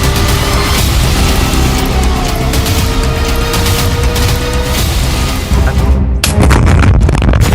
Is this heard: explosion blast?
yes